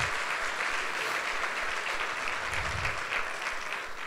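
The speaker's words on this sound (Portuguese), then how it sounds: "Dá mais um aplauso a Jesus" A church congregation at a Sunday service claps for Jesus, a steady, full wash of applause from a crowd that lasts the whole few seconds, with no speech over it.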